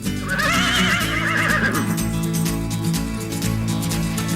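A buggy horse whinnies loudly and close, a long wavering neigh in the first two seconds, followed by hoof clip-clops and a steady background rumble.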